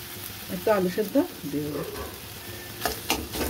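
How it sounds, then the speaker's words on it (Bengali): Boiled potato is stirred into an eggplant chop filling in a pan, with a low sizzle under a few scraping strokes of a spoon and some muffled background sounds. "দিয়ে এটাকে আবার ভালো করে মিশিয়ে নেব"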